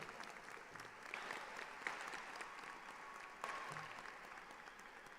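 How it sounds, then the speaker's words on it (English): Applause from the audience at a school district general assembly, a steady, fairly faint wash of many hands clapping throughout. "A round of applause, please."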